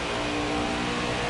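Racing truck engine at Pocono in a video game, a loud close roar held at high revs for a brief steady burst.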